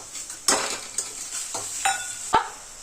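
Spices for a jackfruit curry are stirred in a hot pan, with a soft background sizzle broken by about five distinct metal-on-pan scrapes at a loose, uneven rhythm.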